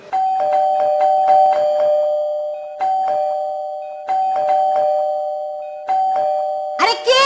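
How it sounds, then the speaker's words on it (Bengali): A doorbell rings again and again, each ding-dong chime sounding loud and close in repeated bursts, with a brief burst of other sound at the very end. "একটু এত কলিং বেল দিতে হয় নাকি?"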